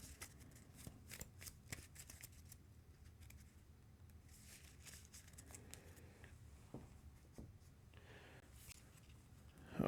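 Cards for the Earthborne Rangers board game being shuffled by hand: repeated riffling, papery bursts, fairly close and moderately quiet, with a sharper rustle at the very end.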